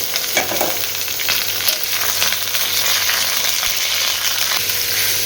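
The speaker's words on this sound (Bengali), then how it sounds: "আলুটা একটু ফ্রাই করে এর মধ্যে এঁচোড়টাও একটু ফ্রাই করে নেবো একসাথে" Potatoes and raw jackfruit frying together in oil with salt and turmeric, a dense continuous sizzle with occasional scraping stirs, close and steady throughout, no voices.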